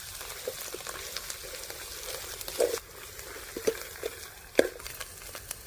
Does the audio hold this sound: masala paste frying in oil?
yes